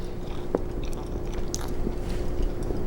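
Cloud eggs with toast being eaten, soft close-up chewing and biting with light crunches and wet squishes, quiet with no talking.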